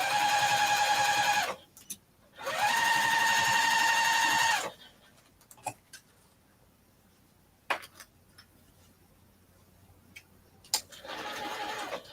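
A sewing machine runs a 1/8-inch basting stitch at stitch length 2.5, attaching cross-stitch work to a small decorative pillow. The motor gives two steady whirring runs of about two seconds each, a quiet gap, then a short run at the end.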